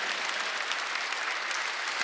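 During a Sunday worship service, the congregation claps together in a brief, even burst of many hands, steady and moderately loud, with no talking over it.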